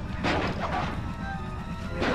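Objects smash and crash in the bird-themed level of the Sly 2 video game, a few sharp breaking impacts over a dense, continuous game soundscape, with no talk.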